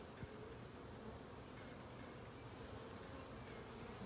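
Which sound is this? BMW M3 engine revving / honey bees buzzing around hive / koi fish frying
honey bees buzzing around hive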